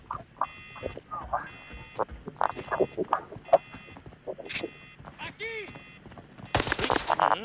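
Gunfire in the shooter game Arena Breakout, repeated rapid bursts of shots in short rhythmic groups with beeping electronic tones, under frequent excited talk and ending in a louder blast.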